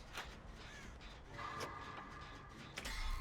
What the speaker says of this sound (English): Hello, little crow.